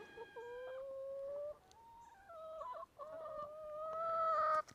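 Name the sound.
white chickens clucking on a farm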